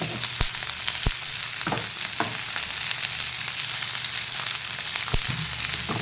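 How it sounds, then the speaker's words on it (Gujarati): Sliced onion chips sizzling hard in a pan over full flame, a dense steady frying hiss punctuated by sharp clicks and spatula scrapes, close and loud with no voices. "ચિપ્સ કરી લીધી છે તો એને આપણે અંદર એડ કરી દઈશું એને ફૂલ તાપે જ થવા દેવાનું"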